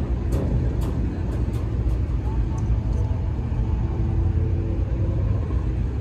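A Dodge Charger 392 and a Mercedes E63 AMG drag race at a strip. A loud, steady engine rumble runs through the whole stretch, with a few sharp high clicks near the start.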